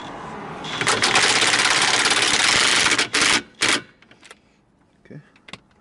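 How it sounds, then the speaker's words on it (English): Impact wrench on its medium setting tightening a rear shock nut on a BMW E39 Touring wagon, a loud rattling burst of about two seconds, then two short blips and quiet workshop sounds. "I'm gonna use my impact in the medium settings just so I don't mess up the threads"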